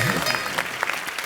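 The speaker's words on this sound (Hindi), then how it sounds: "तालियां जोरदार" Brief burst of audience applause on a Hindi television comedy show, a quick scattered clatter of clapping with voices speaking over it.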